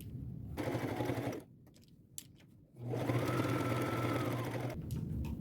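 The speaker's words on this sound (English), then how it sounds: "Now I'm going to sew everything on, just like I did the other shirt." Sewing machine running with blue thread while stitching pieces onto a reversible collage jacket made from two shirts, sounding in two close, steady bursts of rapid stitching separated by a short pause with light handling.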